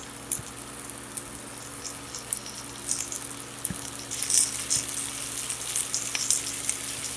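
Shrimp sizzle in a pan with browning garlic, a close, steady crackling fry with occasional utensil taps and a slight rise in intensity partway through.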